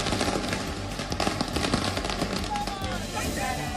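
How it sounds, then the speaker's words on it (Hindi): A dense, rapid string of firecracker pops is set off by Eknath Shinde supporters on the street in Thane, Maharashtra, crackling continuously under voices. "ठाणे में शिंदे समर्थक अभी से पटाखे जला रहे हैं"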